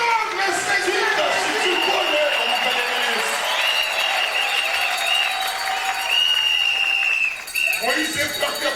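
A church congregation applauds and cheers loudly and steadily, with clapping and crowd acclaim filling the space and voices mixed in, briefly dipping near the end.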